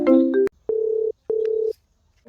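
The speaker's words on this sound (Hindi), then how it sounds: "अरे किसका फोन आ रहा है?" A steady electronic phone ring, two long buzzing pulses separated by a pause, preceded by a brief melodic tone, close and clear with no talking.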